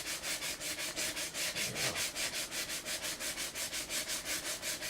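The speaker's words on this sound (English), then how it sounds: "Sanding these boxes." Wooden boxes sanded by hand in a kitchen: quiet, close, steady back-and-forth rubbing strokes in an even rhythm of roughly five per second, with no other sound.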